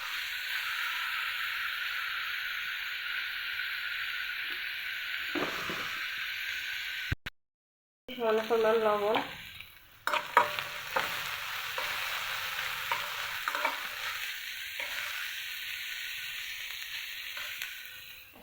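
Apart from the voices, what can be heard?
frying garlic, onion and chili in mustard oil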